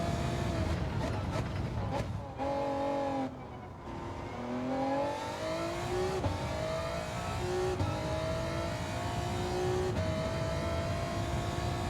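A race car engine in Gran Turismo 7 holds third gear on the Sardegna circuit, whining and rising in pitch through repeated climbs with brief lifts between them, while a commentator talks over it.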